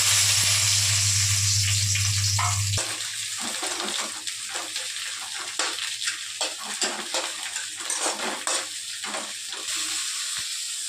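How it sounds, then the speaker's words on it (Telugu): Brinjal cut into quarters frying in hot oil in a pan, a continuous close crackling sizzle with bubbling pops, preceded by a low steady hum at the start. "దీన్ని ఇప్పుడు ఆయిల్లో వేసుకొని ఫ్రై చేసుకుందాం."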